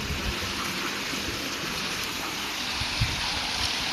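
Water runs steadily at an old outdoor well, a continuous broadband rush that stays even from start to finish with no voices over it.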